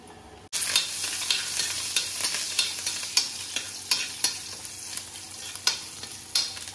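Curry leaves dropped into hot oil for tempering a jackfruit palya: a sharp sizzle, then a steady crackle of frying with rhythmic scraping stirs of a spoon in the pan every half second or so, close and fairly quiet.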